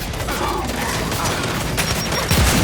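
A grenade blast in the shooter game Gears 5, set amid dense, continuous gunfire and battle noise, with a heavier boom rising near the end.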